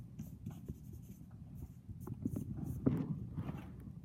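Pencil scratching ruled grid lines on paper along the edge of a ruler, a run of soft irregular strokes close by with light taps, and no talking.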